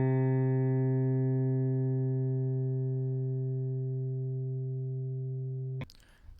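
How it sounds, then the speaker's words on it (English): A single plucked guitar note rings out long and steady, slowly decaying with a bright, synthetic sheen, then cuts off abruptly into a brief burst of noise near the end. "Here I have this item with a plucked guitar sound."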